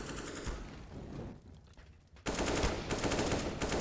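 Rapid gunshots in the video game CS:GO during a competitive match, bursts of automatic fire that drop away briefly before a loud renewed volley near the end.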